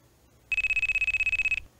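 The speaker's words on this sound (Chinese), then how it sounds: "他又接到电话" A telephone rings in a single burst of rapid, evenly pulsed electronic trills, bright and close, lasting about a second before stopping abruptly, with no talk over it.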